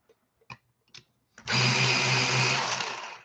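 A pencil sharpener grinds green Prismacolor colored pencils: a few soft clicks and taps, then a loud, steady mechanical whir that runs for nearly two seconds, with no talking.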